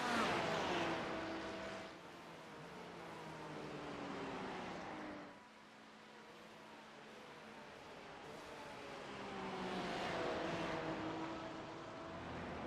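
A race car engine in the Bathurst 12 Hour sim racing game revs up through its gears again and again, each pitch climbing then dropping, heard fairly faintly.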